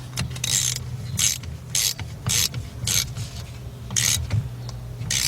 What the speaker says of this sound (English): I am using a 13mm deep socket. Get my ratchet on here.